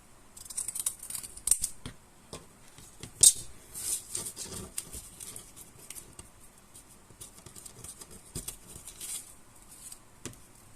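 Scissors snipping through kraft paper cardboard pieces for a birdhouse craft, a close, quiet run of irregular crisp cuts and rustles with no talking.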